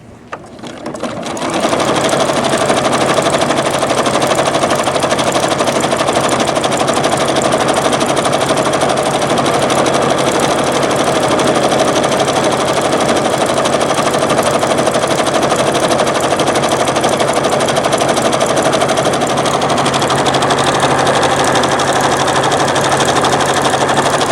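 A sewing machine stitches at high speed with metallic thread, a loud, steady, continuous mechanical whirr with a dense rapid needle rhythm that holds unbroken for over twenty seconds, with no talking.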